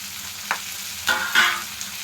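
Ginger, garlic and tomato pieces fry in a pan for a farm chicken curry, giving a steady sizzle with a few spoon scrapes and knocks, with no talk.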